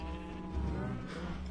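A Minecraft sheep bleats once, a short wavering nasal call at moderate volume heard close, with faint game background around it.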